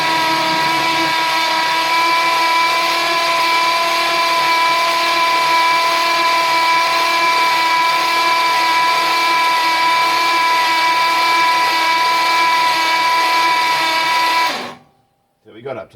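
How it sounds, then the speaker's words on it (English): A 1957 Plymouth Belvedere engine cranks on its starter with the spark plugs removed, a loud, steady whirring drone that holds evenly for about fifteen seconds before cutting off abruptly. "That's just cranking."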